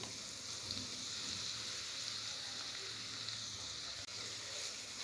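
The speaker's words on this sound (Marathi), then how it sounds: "आपण किसलेले गाजर टाकणार आहोत आणि परतणार आहोत" Grated carrots and dry fruits sauté in ghee for gajar halwa, giving a continuous dense sizzling hiss that stays close and even throughout, with no speech.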